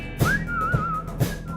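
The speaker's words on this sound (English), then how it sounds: "We rode to the beat of our favorite whistling tune." A person whistles a smooth, wavering melody, clear and close, over a soft background beat.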